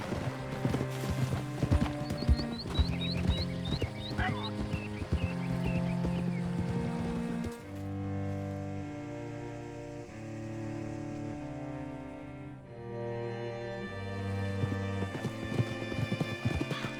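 Horse hooves clip-clop in Red Dead Redemption 2 amid an orchestral music score, with a brief whinny early on; the steady hoofbeats sit under the loud music.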